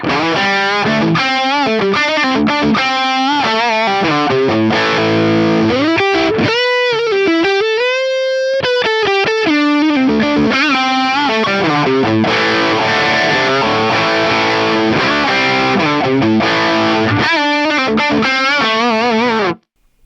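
Loud, heavily distorted electric guitar through a drive tone with treble lowered for a creamy lead, playing sustained bends and quick runs, thick overdriven tone throughout, ending abruptly.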